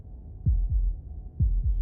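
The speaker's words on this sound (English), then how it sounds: "that was the sound of a heartbeat," Deep, thumping heartbeat sound effect from the game Slay the Princess, two paired beats in a slow lub-dub rhythm, close and resonant with a low hum underneath.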